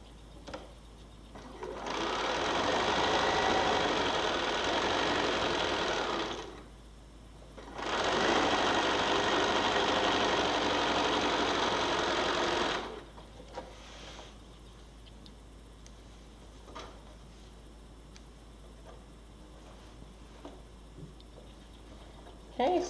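A sewing machine stitches a quarter-inch quilt seam on a beginner layer cake quilt in two long steady runs of rapid mechanical whirring, separated by a short pause, then quieter handling noises follow.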